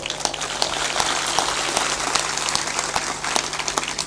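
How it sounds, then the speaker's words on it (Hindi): A spiritual gathering's audience claps loudly and steadily, a continuous dense wall of applause with occasional sharper hand strikes, over a faint constant hum. "थोड़ा जोर शोर से ताली बजाया करो।"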